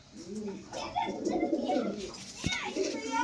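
A pet pigeon, a lively fantail-type bird kept by a hobbyist, coos in soft repeated rounded calls, close by, with someone talking over it.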